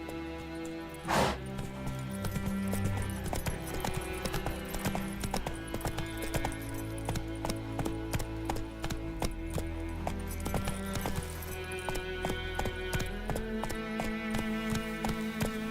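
Hooves of Geralt's horse Roach clip-clop steadily in The Witcher 3, a brisk rhythmic trot under game music and ambience, with one louder hit near the start.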